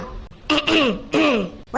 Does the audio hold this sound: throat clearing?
yes